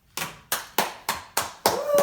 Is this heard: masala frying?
no